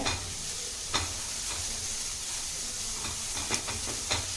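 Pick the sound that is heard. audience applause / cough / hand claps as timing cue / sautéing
sautéing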